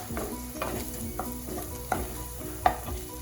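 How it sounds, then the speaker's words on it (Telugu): Ginger garlic paste frying with browned onions for a restaurant-style mushroom masala, stirred in a pan: a steady close sizzle with repeated scraping strokes of the spoon about every half second, no voices. "అల్లం వెల్లుల్లి పేస్ట్ వేసుకొని ఫ్రై చేసుకోవాలి పచ్చివాసన పోయేంత వరకు"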